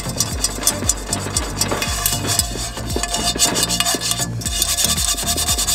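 Rust being scrubbed off cast iron cookware, rapid repeated rasping strokes close up in a steady back-and-forth rhythm, loud and alone without speech.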